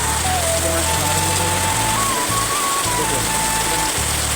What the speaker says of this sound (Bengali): এই দেখো কী পরিমাণ বৃষ্টি করছে, দেখো